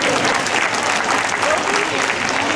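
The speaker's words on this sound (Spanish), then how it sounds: "Yo creo que el aplauso era un poco más grande, habíamos acordado" A gala audience in Blanes at Mundoculturas 2019 gives dense, sustained applause, loud and even from start to finish.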